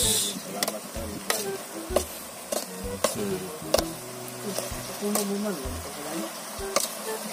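A spatula stirs and scrapes eggplant frying in cooking oil in a pan for Filipino ginisang talong, giving repeated sharp clicks over a steady sizzle, with a faint voice in the background.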